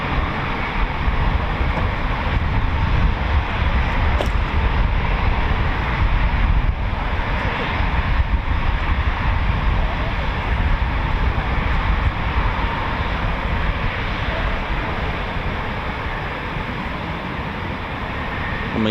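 Eurofighter Typhoon FGR4 jet engines roar continuously at RAF Coningsby, a broad, heavy rumble from some distance that holds steady and eases slightly toward the end.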